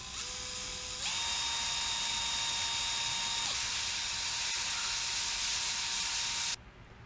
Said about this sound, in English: use this step bit here and get this drilled out big enough so that the tug shaft can fit through the hole